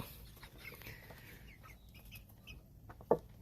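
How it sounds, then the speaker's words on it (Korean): Black Copper Marans rooster clucking softly at a home backyard flock, low muttering calls under faint farmyard background, with one sharper, louder cluck near the end. "가장 크고 용감한 대장닭"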